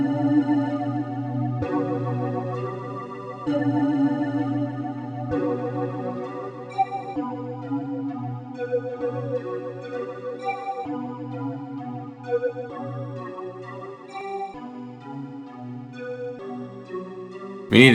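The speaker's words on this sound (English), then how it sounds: "Let's add some reverb to this." Music with a steady beat and sustained chords, bathed in a washy reverb that blurs the notes into a lingering tail.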